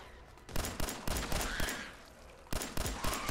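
Gunfire in Fallout 4 on Survival difficulty: loud, sharp shots in quick irregular bursts, overlapping and echoing, with a short lull before another volley.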